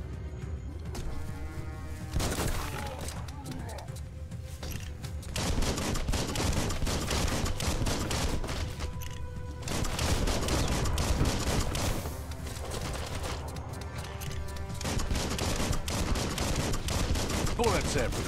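Gunfire in the video game Biomutant: dense bursts of automatic shots and impacts rattle continuously, loud and close, with brief lulls between volleys and a busy combat mix underneath.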